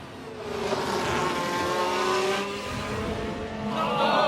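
An F1 Manager 2023 race car loses control at the final corner, its engine droning loudly while tyres squeal and skid, building toward the end with no talk over it.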